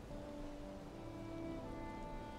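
Steady rain falls in the Viking survival game Valheim, a soft, continuous hiss of drops at low volume with faint tonal game ambience beneath and no speech.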